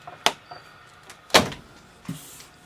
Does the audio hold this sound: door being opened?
yes